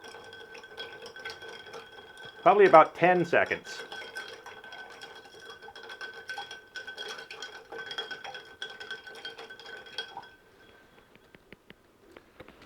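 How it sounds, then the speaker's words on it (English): Rum cocktail stirred with ice in a mixing glass, a steady faint clinking and swirling rattle for about ten seconds, briefly interrupted by a short spoken remark near the start, then fading out. "We're going to stir this until it's chilled and diluted."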